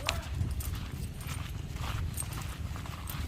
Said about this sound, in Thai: พาน้องมิ่งไปเจอกับม้านะคะ